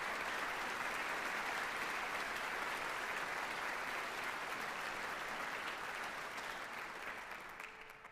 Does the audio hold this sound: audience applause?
yes